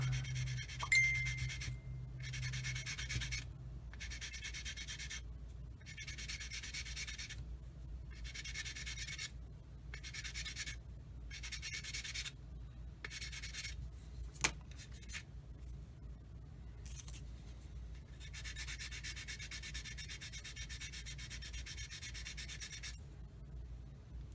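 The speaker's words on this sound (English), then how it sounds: "I'm going to use my 400 grit sander here and just start sanding that baby down." Repeated strokes of 400-grit sandpaper rubbing a 1/48 scale model airplane, steady rhythmic hissy bursts with short gaps, then a longer continuous stretch of sanding.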